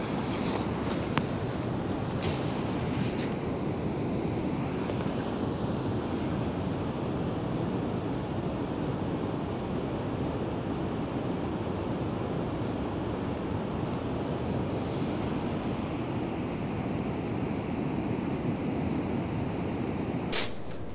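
Niagara Falls thunders at sunrise at the end of January, a steady, dense roar with no let-up, carrying some wind buffeting on the microphone and no voices.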